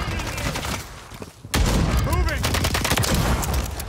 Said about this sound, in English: Why are you shooting at me? You're my teammate, bro.